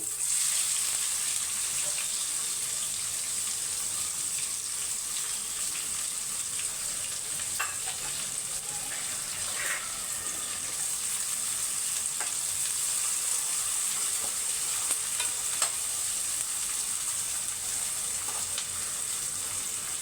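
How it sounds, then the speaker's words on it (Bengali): Chopped onions frying in a pan of hot oil with cardamom, cinnamon and cumin, a steady close sizzle with occasional stirring, continuous throughout with no voices. "এখন আমি এখানে আগে দুটো মিডিয়াম সাইজে পেঁয়াজ কুচি করে রেখেছিলাম সেটা দিয়ে দিচ্ছি"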